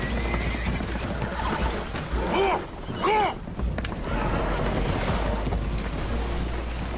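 Spooked horses on a damaged boat taking on water in the video game Red Dead Redemption 2 let out two sharp, shrill whinnies over a constant churn of water and engine noise.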